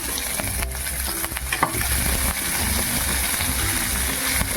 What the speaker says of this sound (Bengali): একটু ভাজা করে নেবো মাংস